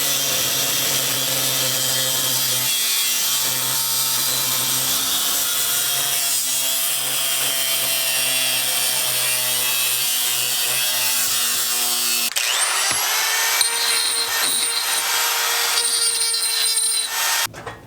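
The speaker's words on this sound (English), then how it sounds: "I can just use my my grinder, so I'm gonna just cut this piece with the grinder." An angle grinder cuts a piece for a turbo manifold on a K20-powered DA9, a steady close grinding whine for about twelve seconds before the tone shifts sharply for the rest of the cut. No one speaks.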